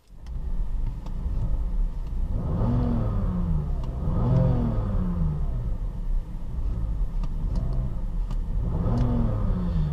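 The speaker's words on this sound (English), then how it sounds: "All right, let's start it up." A 2004 BMW 530i engine turns over and catches, then revs up and down several times in rising and falling swells over a steady idle rumble.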